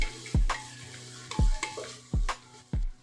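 Chopped ripe tomatoes are stirred in a frying pan with oil, giving four distinct scraping strokes at a steady rhythm over a soft, continuous sizzle, close and clear with no talking.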